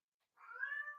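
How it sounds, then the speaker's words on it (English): A cat meows once in the background, a drawn-out, fairly faint cry rising out of silence. "Please ignore my cat shouting in the background."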